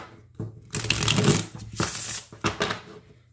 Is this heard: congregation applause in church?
no